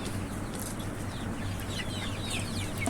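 Young desi rooster chicks, about 55 days old and roughly 600 grams, cluck and chirp steadily at close range over a constant farmyard background hum.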